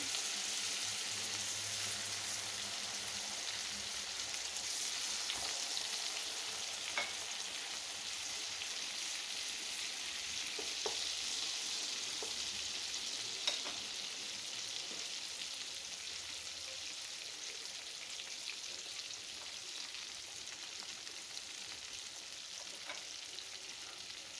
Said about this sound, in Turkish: Domatesin tereyağıyla buluştuğu pişmeye başladığı zaman çok ayrı bir lezzeti oluyor